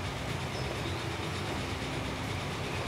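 A steam train running in the game Transport Fever, a steady, even rumble with a constant low hum and faint rhythmic clatter, alone and unchanging.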